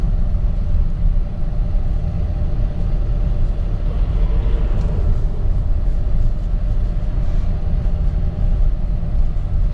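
A Lada car drives along a road in wartime Ukraine, giving a steady low engine and road rumble with no break. Nobody speaks over the even drone.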